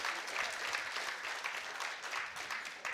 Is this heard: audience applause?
yes